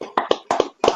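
A few participants in an online meeting clap over their microphones, producing three or four separate bursts of hand claps that are close, uneven and a little muffled, with no talking between them.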